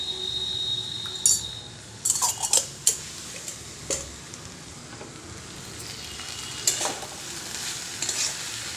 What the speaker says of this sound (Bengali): একটু তেল ছড়িয়ে দিয়ে আপনারা একটু নাড়াচাড়া করে নেবেন